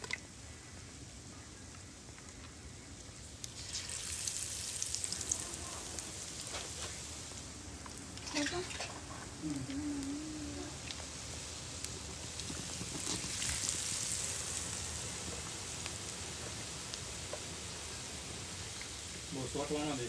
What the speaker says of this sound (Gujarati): હવે જો અમારી બેન તળવા માંડ્યા છે